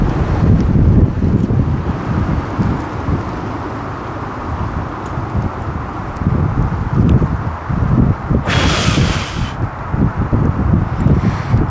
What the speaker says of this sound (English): Big gust of wind coming.